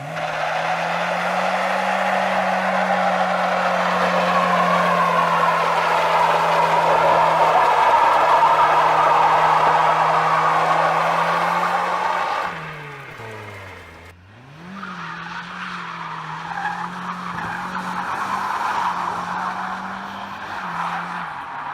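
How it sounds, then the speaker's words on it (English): A lightweight rear-wheel-drive Mazda Miata spins its tires, a loud sustained engine drone and tire squeal lasting about twelve seconds, then a brief drop and shift before the engine and screeching pick up again, close by. "I mean, they spin tire pretty well."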